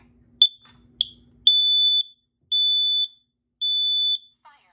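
A large smoke alarm gives two short chirps, then three loud, piercing beeps in an even rhythm, close and alone in a quiet room.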